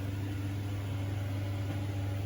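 A microwave oven heating food gives off a steady, even electrical hum with a low drone underneath, close and continuous with no other sounds.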